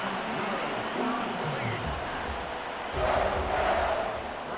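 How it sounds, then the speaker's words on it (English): Crowd noise from a simulated NFL stadium in Madden NFL 24, Tampa Bay Buccaneers at New Orleans Saints, a steady roar of cheering fans that swells louder near the end, heard alone without talk. "you can hear them in the crowd celebrating this advancement"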